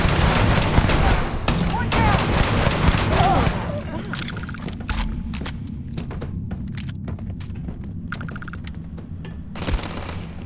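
Robot gunfire in Starfield on Xbox Series S: dense, loud bursts of rapid shots and mechanical clatter fill the first few seconds, then give way to quieter scattered shots and ambient game noise, with a voice in the mix.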